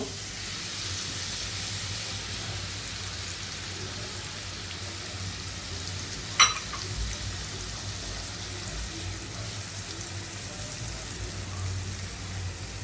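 Marinated spice paste frying in a pan for a fish and chicken bhuna, a steady close sizzling hiss with one brief sharp clink midway, no talking heard.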